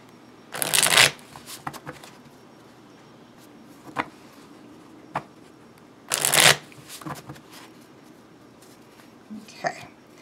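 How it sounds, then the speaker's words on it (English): A deck of cards riffle-shuffled up close gives two loud, brisk bursts of flicking, followed by lighter taps and handling noises, without speech. "Let's give these another good shuffle, because obviously there's a lot of cards."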